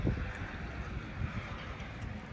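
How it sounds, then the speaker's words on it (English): Gusty wind buffets outdoors by a farm gate, a dull broadband rush with low rumbling microphone noise, steady and fairly loud with no voices. "before this wind blows the bloody gate shut"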